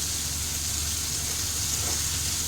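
Hilsa fish frying in oil with black cumin and turmeric makes a steady, even hiss of sizzling that stays constant and unbroken throughout, with no talk.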